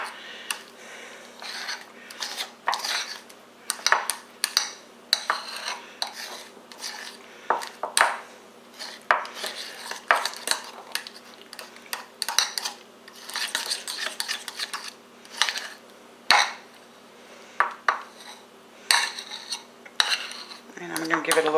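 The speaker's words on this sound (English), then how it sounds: "So we're just stirring this up, getting it all combined." A spoon clinking and scraping against a bowl while lemon chili butter is stirred together, a long run of irregular metallic taps and rubs, close and fairly quiet.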